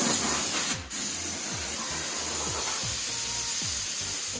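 A steady, loud hiss of compressed air blowing dust off a Landini 2-55 tractor for several seconds, with a brief dip near the start, over low machinery rumble.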